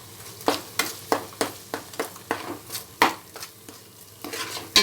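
Curry masala frying in oil for a fish curry, stirred with a spoon, bright rhythmic scrapes against the pan about every half second over a low sizzle.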